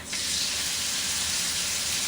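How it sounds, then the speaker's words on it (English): Ahi tuna searing in hot oil, a loud, steady hiss and sizzle that starts abruptly and holds evenly throughout, close by. "You hear the sizzle?"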